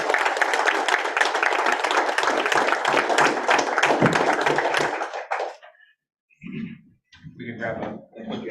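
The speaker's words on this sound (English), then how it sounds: "one more round of applause for you" A room at a city board of aldermen meeting breaks into a dense burst of applause for a group of students. The clapping lasts about five seconds and cuts off sharply, followed by a pause and then scattered talking.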